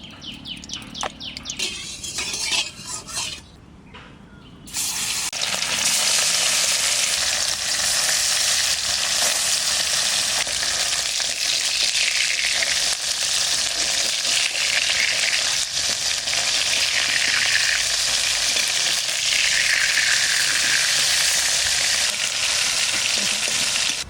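Hot oil in a kadai sizzles loudly as frying begins for a river bele fish curry, rising suddenly after a quieter outdoor start with birdsong and then holding a dense, steady hiss.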